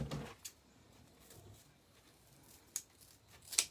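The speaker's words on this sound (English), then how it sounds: "I've got to get some better scissors." Scissors snipping through mesh while making a cow-themed wreath, a few sharp faint cuts spaced irregularly in a quiet room.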